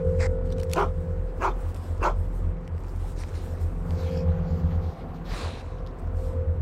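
Sled dogs barking in short, sharp bursts, several yaps spaced across a few seconds, over a steady low engine-like rumble and hum, with no talk.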